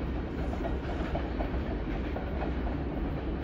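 A CSX freight train rolls past at Union, New Jersey, a steady loud rumble of railcars with rhythmic clickety-clack from the wheels throughout.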